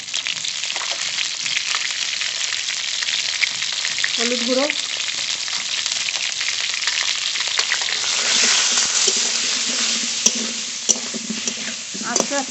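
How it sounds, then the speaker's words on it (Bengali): Pointed gourd frying slowly in a pan with turmeric powder, a steady close sizzle with occasional stirring scrapes throughout, and a voice speaking briefly over it. "আস্তে আস্তে জাল দিয়ে ভালো করে ভেজে নেব"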